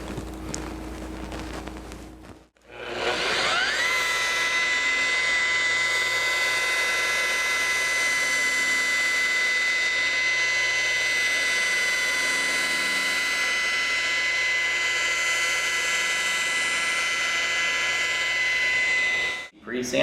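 A loud, steady high-pitched whine of a car polisher with a foam pad and 3M Perfect-It compound buffing a 1953 Buick Skylark's paint, running continuously after a short pause, droning without change for most of the clip.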